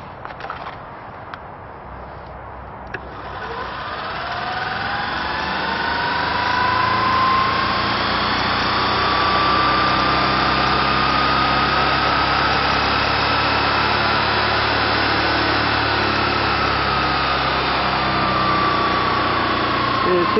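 A forklift motor mounted to its transmission runs with its flywheel spinning, a steady close engine whine that rises in pitch and settles into a continuous drone, with a brief clatter as it starts.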